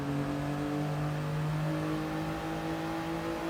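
A Toyota GR Yaris race car in Gran Turismo Sport at Fuji holds a steady, close engine drone with sustained tonal whine, no talk over it.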